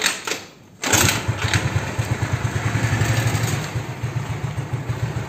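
A carbureted Honda Beat scooter engine, fitted with new valve rocker arms and pin, cranks and catches after a short pause, settling into a fast, steady chugging putter close by.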